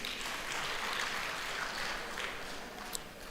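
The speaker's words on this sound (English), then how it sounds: "Another big round of applause for Stacey." Faint, steady applause from an awards ceremony audience, a soft wash of clapping with no clear individual hands, continuing evenly for a few seconds at a distance.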